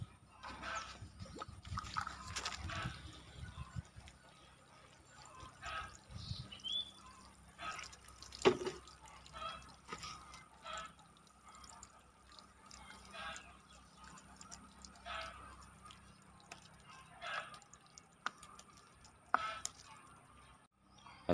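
Water poured over a potted ficus kimeng stem cutting makes soft, close dripping and trickling sounds that continue with irregular splashes.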